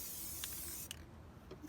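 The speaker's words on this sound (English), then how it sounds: "Spray into the water until you start to see" Spray paint can hissing as paint is sprayed onto a water surface for hydro-dipping, a steady close spray about a second long, then a short burst and a couple of light clicks.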